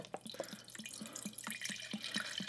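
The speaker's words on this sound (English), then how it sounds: "pouring approximately 445 milliliters of the grain alcohol into our beaker" Grain alcohol poured into a beaker for homemade carbomer gel hand sanitizer, a steady close trickle of liquid with irregular splashy drips throughout, heard alone with no talking.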